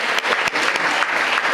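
Loud, close audience applause fills a college hall during a Tamil speech after a Rotary prayer reading, a dense burst of clapping with a few sharper claps standing out.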